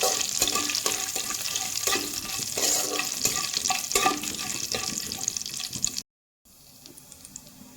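Whole cardamom, cinnamon, whole garam masala and cumin seeds being stirred in hot oil for a vegetarian potol dish, a soft sizzle under scraping spoon strokes that stops abruptly, followed by quieter kitchen background.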